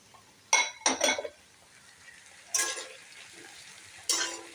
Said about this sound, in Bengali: বেগুনগুলো দিয়েও একটু ভেজে নেব